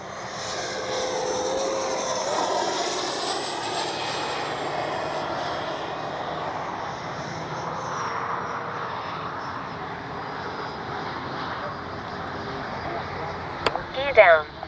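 Freewing Avanti S V2 RC jet flying in wind, heard as a steady, continuous whine and rush that holds level throughout, with a few sharp bumps and clatters near the end.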